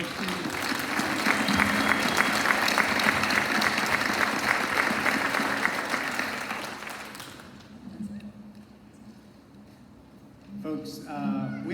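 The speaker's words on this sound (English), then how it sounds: "Big round of applause for all of our students." An audience at a school board meeting applauds the students in a dense, steady burst of clapping that fades after several seconds, followed by quieter room sound and a voice starting to speak.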